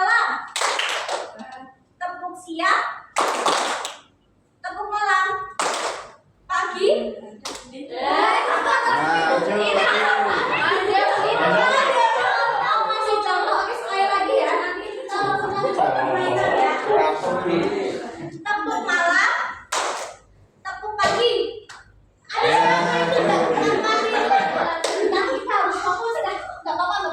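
Children in a classroom clap rhythmic patterns in a tepuk clapping game, sharp bursts of hand claps alternating with a teacher's chanted calls and bursts of kids' chatter and laughter.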